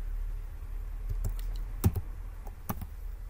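Code being typed on a computer keyboard, heard as a few scattered, soft key clicks close by over quiet room hiss.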